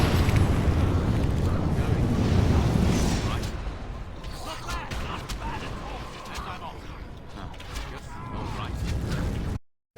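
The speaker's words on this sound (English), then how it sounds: "It's a fire trap." A fire trap erupts inside a tomb in the video game Dragon Age: Origins, a loud roaring whoosh of flame that drops after a few seconds into crackling, creaking mechanical noise, with a player talking over it.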